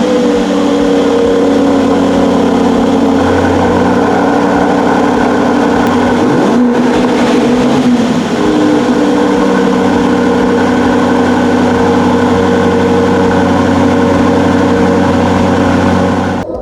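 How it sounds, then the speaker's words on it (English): An Aston Martin DB12's twin-turbo 4-litre V8 idles steadily and loud from close by, a deep even rumble with a brief blip of throttle midway, no talk over it. "what that twin turbo 4-litre V8 actually"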